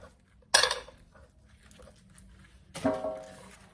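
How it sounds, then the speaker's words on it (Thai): Two separate crisp knife chops through spring onions on a cutting board, a couple of seconds apart, with quiet kitchen background between them. "เราก็จะมาหั่นต้นหอมค่ะ ตัดส่วนโคนทิ้งไปค่ะ"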